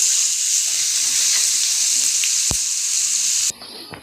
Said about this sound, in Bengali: পেঁয়াজটা নাড়াচাড়া করতে থাকি